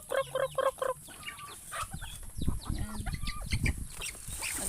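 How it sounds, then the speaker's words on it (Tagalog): Farmyard chickens fight and cluck in a noisy, rapid burst of squawks near the start, followed by continued agitated clucking and flapping over outdoor background noise, with a brief spoken word from a person. "Nag-away na yung mga manok."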